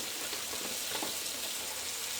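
Cabbage fries in a big, deep skillet with a steady, even sizzle filling the whole stretch, moderately loud and without voices.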